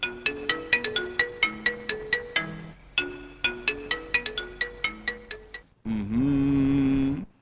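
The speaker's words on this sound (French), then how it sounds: "Et oui, le téléphone sonne." A telephone on a radio call-in programme trills in a quick run of repeated electronic tones, loud and close, then cuts into a long lowing moo-like tone as the line connects.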